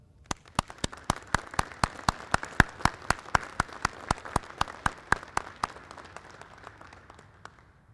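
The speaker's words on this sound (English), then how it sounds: "A round of applause for them." An audience at a regimental change of command ceremony claps for the class of 2022 company commanders, steady sharp claps that thin out and fade toward the end.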